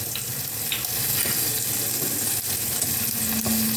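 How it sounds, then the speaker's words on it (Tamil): Mustard seeds crackle and pop steadily in hot oil, a dense, close sizzle with scattered sharper pops. "கடுகு வெடிச்சுருக்கு"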